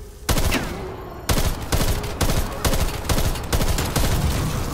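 Rapid gunfire blasts in a zombie video game, one loud volley after another in a steady, repeating rhythm with short pauses between bursts.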